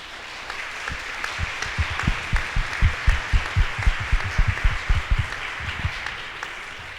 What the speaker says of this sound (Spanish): Entonces yo pido un aplauso para los docentes.